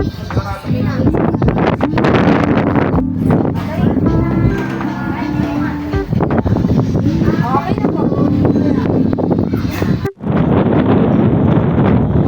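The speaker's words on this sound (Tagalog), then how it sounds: "Hangin." Wind blows across a mountain viewpoint near People's Park in Tagaytay, buffeting the microphone with loud, gusty rumble while people talk over it almost continuously.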